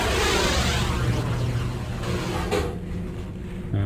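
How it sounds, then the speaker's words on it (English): Elevator moving in Shadow Warrior (1997), a steady loud mechanical rumble and grind that runs the whole time, with a heavier clunk near the end. "Let's send the elevator up and see if there's anything interesting under it."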